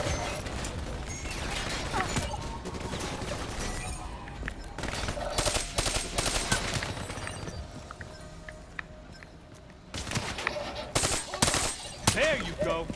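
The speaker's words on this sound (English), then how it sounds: "Why are they shooting me?" Gunfire in Call of Duty: Black Ops III, with rapid automatic bursts and scattered shots running through a dense, noisy game battle, loudest in heavy clusters near the end.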